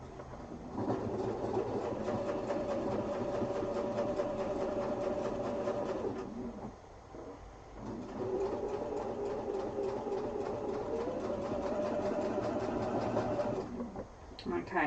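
A sewing machine stitches a quilted duffel bag with a steady, close, rapid mechanical whir, breaking off briefly near the middle and again near the end, and nobody speaks.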